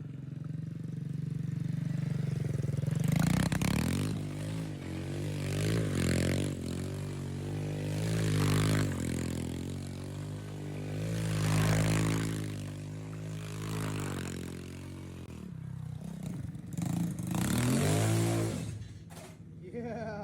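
A mini quad's small engine revs up and down in repeated surges near a street while spinning donuts, its buzzing note climbing and falling several times over a rough idle, with people talking and shouting nearby.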